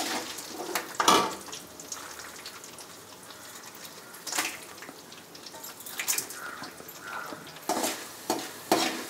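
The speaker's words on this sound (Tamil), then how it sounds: "இது நல்லா ஃப்ரை ஆன வந்து அதுக்கடுத்து நம்ம இந்த மிளகாய் ஆட் பண்ணிக்கிறோம்." Garlic and chilies fry in oil for a drumstick leaf stir-fry, heard as a soft, steady sizzle broken by several sharp scraping stir strokes and clinks at irregular intervals, no talking.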